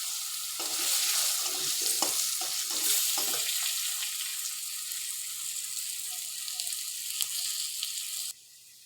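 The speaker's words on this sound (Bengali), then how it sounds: "আলুটা বেশ লাল লাল করে ভাজবো" Potatoes frying in the oil left from frying pomfret fish, a steady bright sizzle with scraping stir strokes early on, fairly close and continuous with no talk, then cutting off abruptly near the end.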